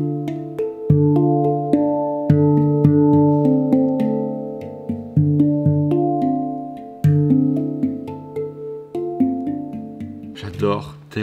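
Handpan tapped by hand, a steel instrument played loosely by a non-player: a steady run of ringing, overlapping metallic tones with soft attacks and long sustain, close and clear, ending in a brief scrape or rustle.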